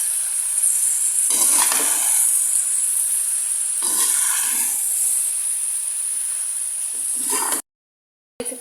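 Chicken macaroni with masala and coriander being stirred in a frying pan, giving a steady sizzle with two louder bursts of scraping and stirring, then a sudden cut to silence near the end.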